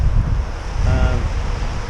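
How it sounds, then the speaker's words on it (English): Waves crash onshore while an offshore breeze blows at a fishing spot, heard as a loud, steady roar of surf with heavy wind buffeting the microphone throughout. "the waves are still kind of crashing onshore"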